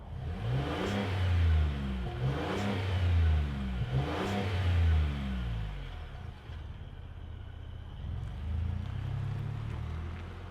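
A 2025 Ford Expedition MAX engine revs repeatedly in loud bursts, each rise and fall followed by a steady deep idle rumble, close by.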